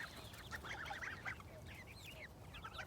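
Several geese honk in a loose, overlapping chatter, somewhat distant and faint against an outdoor background.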